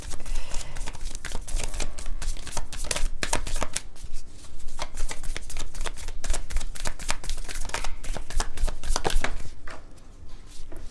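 Tarot cards riffled and shuffled by hand, then drawn from the deck, with dense, rapid flapping and slapping of card stock continuing at close range without talk.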